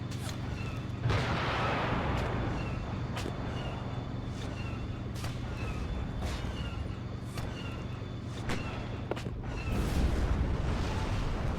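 A Challenger tank fires on an AT-ST in a forest during a Star Wars-themed WARNO strategy game battle: repeated sharp booms and cannon blasts over a constant rumbling din of battle, with several distinct shots spaced seconds apart.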